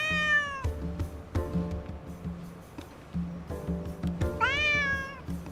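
Cat in the video game Drova meowing, several clear, close, drawn-out meows with rising and falling pitch, spaced apart over a faint background tone.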